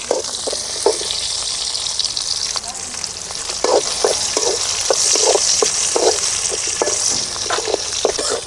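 Chopped tomato frying with chillies in a pan for papaya chutney, a loud continuous sizzle with repeated scraping spoon strokes as it is stirred, close and clear with no talk.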